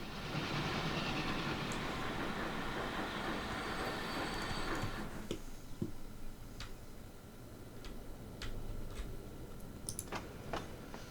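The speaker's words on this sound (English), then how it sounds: "They've got a lot of train activity going on here now." Trains roll along rail lines in the Transport Fever 2 game, a rumbling wash of wheels fading out midway, followed by sparse clicks and ticks of track joints over a quieter rail hum.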